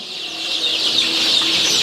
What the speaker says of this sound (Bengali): দেখছেন মুরগি কীভাবে পানি খাচ্ছে।